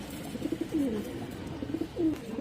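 A male Chini Kaldam pigeon, an original Indian breed, coos in repeated low rolling phrases, close and clear over a faint background hum.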